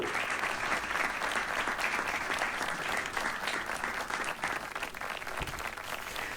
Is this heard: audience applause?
yes